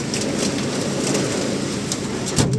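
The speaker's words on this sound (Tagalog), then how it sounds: "Ayan o, umuulan ng yelo" A dense, steady patter of round hailstones pelting a surface in Bulacan, Philippines, a continuous loud rattling roar with no voices.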